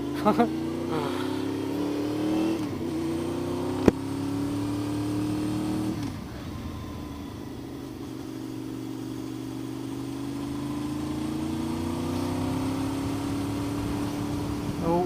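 A motorcycle fitted with an aftermarket exhaust revs and idles, its engine tone rising and falling in long sweeps, with a sharp crack partway through and a voice talking over it.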